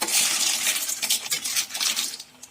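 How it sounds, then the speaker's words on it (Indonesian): Pensi, small freshwater clams cooked with spices in a pot, being stirred: a continuous close rattling scrape of shells and utensil against the pot, with no talking. "Diaduk-aduk lagi"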